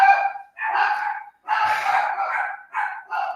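Dogs bark loudly and close in a few quick bursts, some barks stretched into harsh howling yelps, with short pauses between them.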